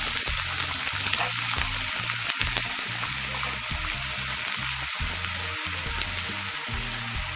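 Onion sautéing in hot coconut oil in a pan, a steady, dense crackling sizzle that runs unbroken and fairly loud throughout, with faint scraping of a spatula underneath.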